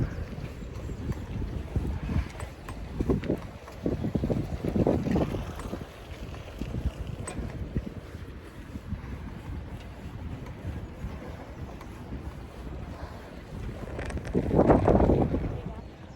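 Gusty wind buffets and rumbles in uneven bursts, swelling strongest near the end.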